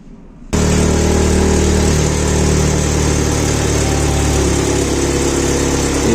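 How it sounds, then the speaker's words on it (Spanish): A car engine kicks on abruptly after a short quiet moment during alternator maintenance, then settles into a loud, steady idle with a constant low hum and no talk. "Ahora, al encender el carro"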